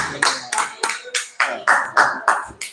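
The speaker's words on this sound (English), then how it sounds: "give a big round of applause for Louis the God" Steady rhythmic clapping at a live-streamed show introducing a fashion designer, sharp claps about twice a second, fairly close and loud, with no other sounds.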